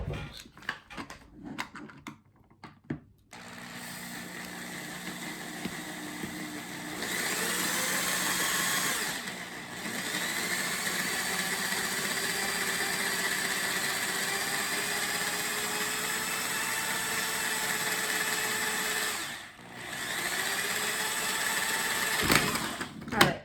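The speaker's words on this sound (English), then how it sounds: "I'm gonna go ahead and take my drill and drill a hole in my toy." A handheld power drill whirs steadily at high speed, drilling a hole in a plastic toy, with a short burst of clattering handling noise first and a brief pause and restart later.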